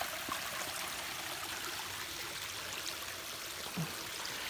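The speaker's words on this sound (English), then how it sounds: "We're here, all here at the water source," A small mountain stream at an Appalachian Trail water source trickles and splashes steadily, a soft continuous hiss of running water heard close by and alone.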